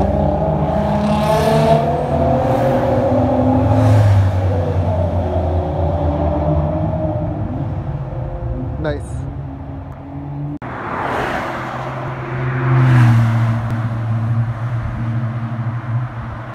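A modified Honda Accord revs its exhaust inside a tunnel, the loud booming drone rising and falling over two bursts with echoing low rumble and no talk.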